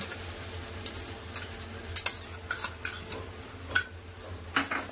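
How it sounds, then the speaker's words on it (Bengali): Spoon scraping and clinking against a pan while chicken is stirred together with whisked yogurt for korma, a series of irregular sharp metallic taps over a soft, low sizzling background, close and alone without voices. "দই দিয়ে ভালো করে মিশিয়ে নেবো"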